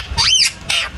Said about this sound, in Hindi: ये मिट्ठू कितने अच्छे से बातें करता है